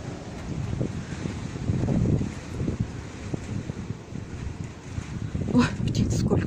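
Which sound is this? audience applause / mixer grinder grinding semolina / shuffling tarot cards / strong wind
strong wind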